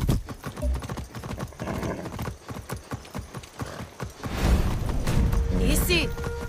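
Steady clip-clop of horse hooves in the video game Far Cry 6, at a brisk, even rhythm, up close, with a louder rumbling stretch near the end.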